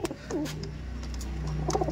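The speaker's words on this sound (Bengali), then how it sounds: "এই দেখুন পায়রা দেখুন হাতে আসবে, শিওর পায়রাটা হাতে আসবে" Giribaj pigeons in a loft give soft, low cooing calls, close by and fairly quiet, with light rustling around them.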